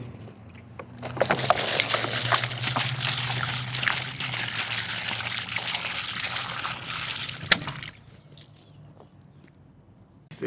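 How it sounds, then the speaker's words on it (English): Water pours steadily outdoors to fill a birds' drinking spot, a close, continuous splashing trickle lasting several seconds with one sharp knock, then stopping abruptly. "Just giving the birds some water, Daisy."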